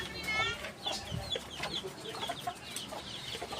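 Backyard chickens cluck close by in short, irregular bursts of calls, with scattered rustling and a soft low background between them.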